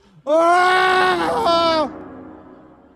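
A loud, drawn-out human scream used as a horror-story sound effect, strained and wavering for over a second before breaking off into a faint trailing echo.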